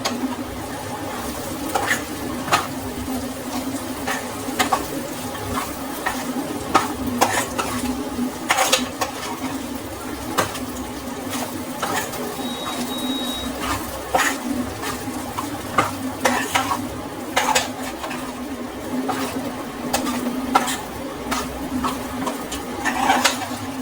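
Okra rice seasoned with pepper and salt is stirred in a pan, with a spoon scraping and clinking in an irregular rhythm over a low, steady hum.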